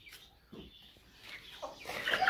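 Dominant-breed hens in a chicken coop bedded with fine wood shavings give a few soft, scattered clucks and murmurs, faint and close in a quiet space.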